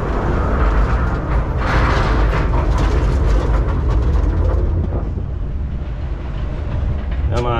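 A roller coaster train rumbles and clatters at Busch Gardens, a loud, sustained mechanical roar with rhythmic rail clicks that slowly eases, ending with a brief squeal.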